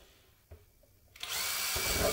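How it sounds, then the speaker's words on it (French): A power drill bores a hole through tile: a quiet start with a small knock, then the drill spins up and runs loud and steady to the end. "Donc là, franchement, aucun problème pour percer."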